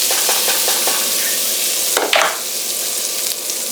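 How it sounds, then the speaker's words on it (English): A quarter cup of butter melting in a hot pan gives a loud, steady, close sizzle, with a brief sharper burst and a scrape partway through. "The first thing I'm going to do is go ahead and put in my 1/4 cup of butter."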